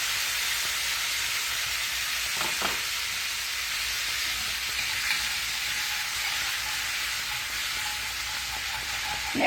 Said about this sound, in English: I can go ahead and cook my tomatoes a little bit and stir that in.